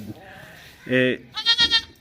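Goat bleating shortly after giving birth, a few loud close bleats, one long and then a quick wavering series, with a voice talking faintly nearby.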